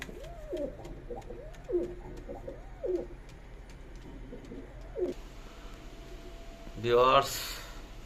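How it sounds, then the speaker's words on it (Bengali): Teddy pigeons coo close by in a run of soft repeated calls, followed near the end by a brief burst of fluttering. "এখানে এক পেয়ার একশো আঠাশ কবুতর আছে দেখেন"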